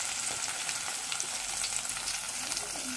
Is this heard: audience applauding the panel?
no